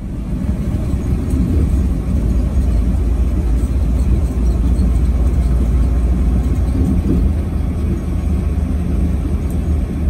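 A 2020 Mack Granite tri-axle dump truck with M Drive transmission drives along, its diesel engine a steady loud low rumble throughout, heard from inside the cab.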